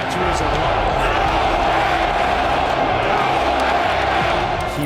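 A stadium crowd of about 8,500 at an American football game makes a dense, unbroken roar, loud and constant throughout with no breaks.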